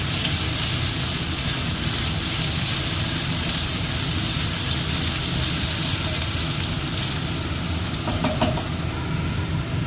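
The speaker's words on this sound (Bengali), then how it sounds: "আলুগুলোকে নাড়াচাড়া করে নিচ্ছি হালকা করে ভেজে নিচ্ছি আমি" Potatoes frying in oil in a kadai while being stirred, giving a steady, loud sizzle with a hissing wash across the whole clip and a few faint clinks near the end.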